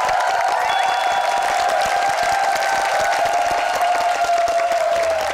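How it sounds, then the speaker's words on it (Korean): A studio audience applauds a Spanish magician on a Korean television magic show, with steady loud clapping and crowd noise under a sustained tonal music bed. "다시 한번 뜨거운 박수 부탁드리겠습니다"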